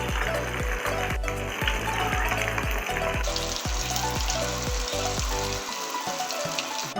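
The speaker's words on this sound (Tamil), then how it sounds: "ஆயில் நல்லா சூடாகிடுச்சு. நம்ம ஊற வச்சுருந்த மீன் எடுத்து அப்படியே உள்ளே போட்டுடலாம்." Marinated whole ayila (mackerel) fish frying in hot oil for a crispy beach-style fish fry, a steady loud sizzle and crackle with a rapid, repeating bubbling pulse underneath.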